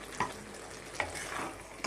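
Fried lentil dumplings (bori) stirred through spinach in a pan, giving soft scraping stirs at a few points over a low, steady sizzle, close and without talk.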